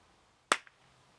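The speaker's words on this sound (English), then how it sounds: "Just do 1 clap." A single sharp hand clap, made to sync audio during an IKEA Ivar cabinet DIY project, sounds once close and loud in an otherwise quiet room, with a faint short echo just after.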